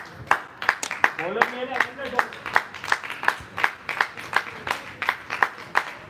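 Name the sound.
applause for the batters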